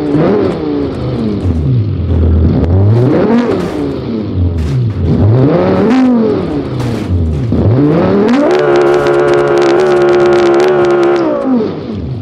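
Rally car in the BeamNG driving game, engine revving hard through repeated rising and falling sweeps, then holding a steady high drone near the end, loud and continuous with no voices.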